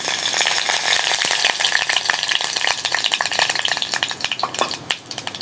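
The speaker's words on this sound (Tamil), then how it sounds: "இந்த தாளிப்பை அப்படியே கூட்டு மேலே கொட்டுங்க." Hot tempering of mustard, urad dal and curry leaves in coconut oil is poured over banana flower and pepper kootu, sizzling in a bright steady crackle with rapid pops and some stirring, close and loud, no talk.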